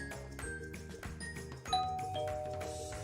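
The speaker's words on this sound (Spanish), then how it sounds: "Suena el timbre." A doorbell chimes close by in a house, bright sustained ding-dong tones ringing over a steady background of music.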